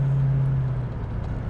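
A Ford Mustang cruises through Los Feliz with a low, steady engine hum that drops in pitch partway through, heard from inside the car.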